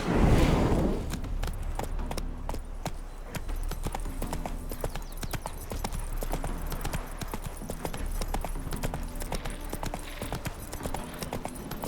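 Steady clip-clopping of horse hooves at a walking pace, close and continuous, with a soft ambient music bed underneath, from the video game The Witcher 3.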